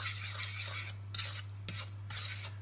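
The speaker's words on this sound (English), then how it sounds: "We're going to stir that around." A spoon stirs water, soft butter and brown sugar in a pan for a chocolate cake, giving several soft, raspy scraping strokes with short pauses between them over a steady low hum.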